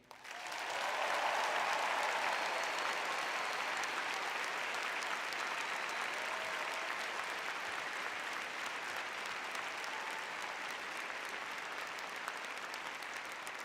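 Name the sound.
commencement audience applause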